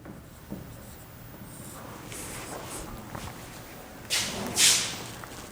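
Marker or chalk writing on a board in a chemistry class, soft scratchy strokes followed by two sharper squeaky strokes near the end, in a quiet room.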